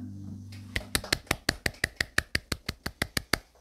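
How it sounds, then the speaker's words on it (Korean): A church congregation at a Wednesday service claps in unison, about fifteen sharp, evenly spaced claps at a steady rhythm, close and clear after a brief murmur at the start. "오늘도 저와 여러분들에게 큰 은혜의 문을 열어주신 하나님께 감사의 박수 올리겠습니다."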